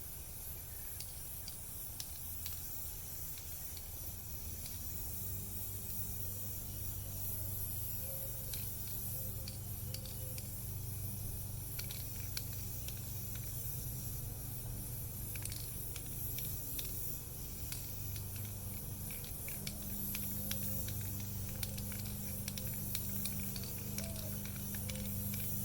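Spray paint hissing from an aerosol can onto yard sign letters, a soft continuous spray hiss with intermittent bursts over a low background hum, fairly quiet and close.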